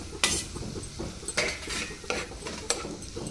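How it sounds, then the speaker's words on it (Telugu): Tomato tipped into a pan of cooking onions and ridge gourd, with a steady sizzle under repeated scrapes and clinks of a metal spoon stirring against the pan, close up. "ఇప్పుడు టమాటా వేద్దాం. టమాటా దీంట్లోనే ఉడకాలి ఫస్ట్,"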